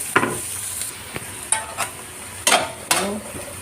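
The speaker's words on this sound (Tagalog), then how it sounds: "Then, lagay po natin yung onion." Onion fries in butter in a pan, a quiet sizzle under several sharp scrapes and taps of a spoon as it is stirred.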